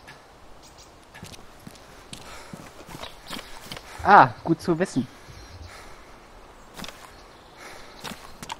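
Footsteps sound in the game DayZ, a scattered run of soft crunchy steps with a louder cluster near the middle, under a voice speaking briefly.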